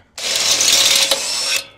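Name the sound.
power drill boring out a hole with 8mm bit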